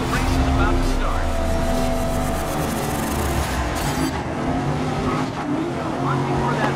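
Race cars in the video game Grid 2019 roar together at the start of a race, a dense, steady wall of engine noise with faint tire squeal, and a voice talks over it throughout.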